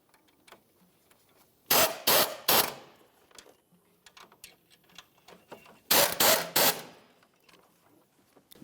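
A ratchet tightens alternator bolts on a 2002-2005 Ford Explorer in two close, loud bursts of rapid clicking, each burst made of three quick strokes, with quiet pauses in between.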